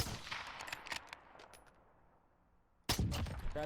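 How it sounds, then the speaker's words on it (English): Sharp bursts of distant gunfire in the video game Warzone crackle in quick clusters, fade into quiet, then a loud close volley erupts at the end. "We got some gunshots now."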